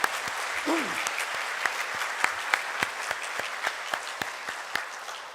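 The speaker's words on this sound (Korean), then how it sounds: "환영합니다 라는 의미로 우리 박수하겠습니다" A church congregation applauds in welcome at a spring-themed service, a steady dense wash of many hands clapping throughout, with a few sharper individual claps standing out near the front.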